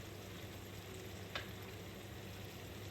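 Ground beef mince fries quietly in a pan, giving a soft continuous sizzle with one brief scrape or clink partway through.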